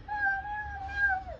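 A voice imitates a cat's meow, one drawn-out tonal mew about a second long that bends downward at the end, close and fairly quiet, with no other talk.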